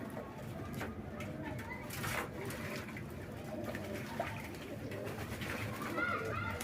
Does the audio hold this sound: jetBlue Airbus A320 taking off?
no